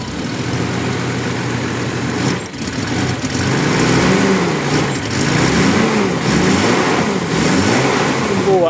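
A Toyota Supra mk3 engine with its distributor timing off, just back running after a head gasket replacement, idles roughly close by and then revs up and down repeatedly in rising and falling sweeps.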